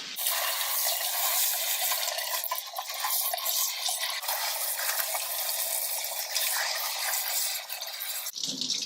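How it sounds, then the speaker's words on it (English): Running tap water splashes steadily into a stainless steel farmhouse sink as it is rinsed, a close, continuous broadband rush that stops abruptly near the end. "you really give it a good rinse."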